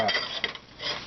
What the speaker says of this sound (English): Pour the noodles back in there.